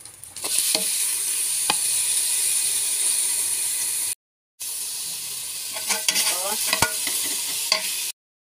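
Garlic, dried shrimp and onion leeks sizzle steadily in hot oil with stirring scrapes and clinks, loud and continuous, a short break midway before the frying resumes.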